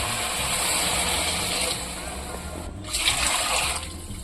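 Water pours steadily into a cooking pot while making nonbu kanji, a continuous close rushing splash that shifts briefly in tone near the end.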